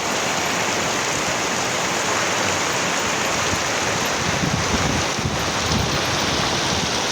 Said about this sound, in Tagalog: Biglang buhos ng malakas na ulan.